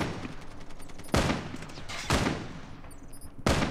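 Three heavy, widely spaced shots from the Annihilator in Call of Duty Mobile, each a sharp loud crack with a decaying tail, over a busy background of quieter distant fire.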